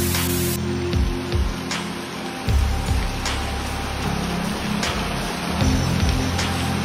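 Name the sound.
rain falling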